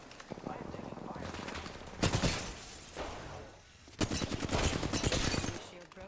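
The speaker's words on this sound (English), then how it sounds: "I am taking fire." Bursts of video game gunfire strike the player during a sci-fi shooter fight against replicators, with dense rapid crackling volleys in two loud stretches and a brief lull between them, close and harsh.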